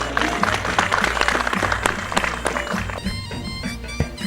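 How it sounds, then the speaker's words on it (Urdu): Audience clapping at a Zarai Taraqiati Bank (ZTBL) stage ceremony, moderately loud and steady, with sustained tonal sound running under the clapping throughout. "ان کے لیے بہت ساری تالیاں"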